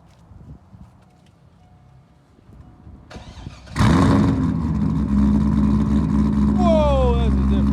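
A cammed C5 Corvette with straight pipes cranks over and fires into a loud, rumbling, lopey idle close by, after quieter background chatter and clatter; people talk around it.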